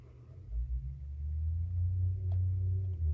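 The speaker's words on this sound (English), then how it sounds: "I don't know if y'all can hear that loud car in my neighborhood" A loud car rumbles past in a residential neighborhood, a low steady engine drone that swells and holds for a few seconds at moderate distance.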